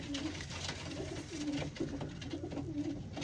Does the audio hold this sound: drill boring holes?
no